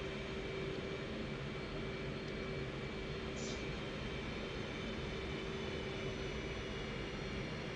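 Steady jet engine roar of an F/A-18 in the DCS flight simulator, a constant broadband rush with a faint tonal whine, holding at moderate level throughout with no talk.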